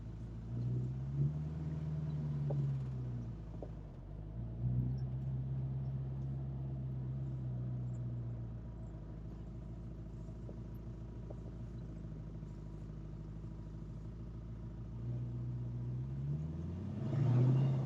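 Engine of a 1968 Ford Mustang Fastback with a manual gearbox revving up and down in low, steady swells, loud and close, with a rising surge near the end and no talk.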